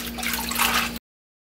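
Boiled dried gondre greens are washed by hand in water, giving a close, steady sloshing and splashing for about a second before the sound cuts off abruptly.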